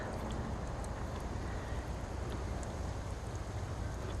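Wind gusting outdoors beside a garden bird bath fitted with a solar fountain, a steady broad rushing roar buffeting the microphone, constant and fairly loud with no voices.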